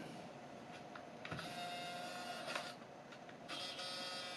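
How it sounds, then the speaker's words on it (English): Lens motor of a Canon SX-series compact camera (SX100/SX110/SX120 type) whining and buzzing in short bursts, faint and close, a thin mechanical grind that starts and stops several times. "I know a few of you have commented on lens noise of the SX100, SX110, SX120 in prior videos"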